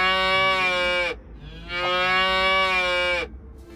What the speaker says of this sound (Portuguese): cada livro traz 12 botões sonoros, com sons dos animais da floresta e da fazenda